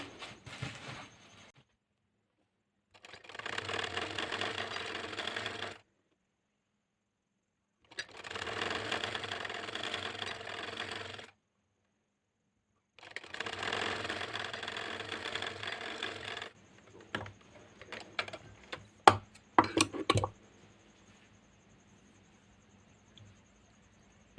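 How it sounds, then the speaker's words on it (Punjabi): Sewing machine stitching a fabric sleeve design with pintucks and fine lace, running in three steady bursts of a few seconds each with pauses, followed by scattered clicks and handling noises. "ਇਸ ਤਰ੍ਹਾਂ ਅਸੀਂ ਇੱਥੇ ਸਲਾਈ ਲਗਾ ਦੇਵਾਂਗੇ"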